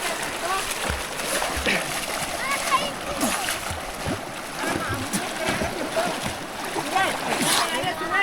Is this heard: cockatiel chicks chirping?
no